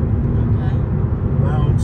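Car driving on a downtown Atlanta highway in the rain, with a loud, steady low rumble from the exhaust and road noise heard from inside the vehicle.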